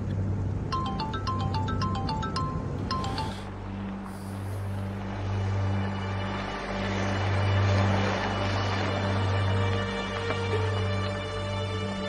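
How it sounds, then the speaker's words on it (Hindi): A phone ringtone plays a short, bright melodic pattern for a few seconds, then gives way to a steady low mechanical drone. "सुपरिटेंडेंट का फोन है।"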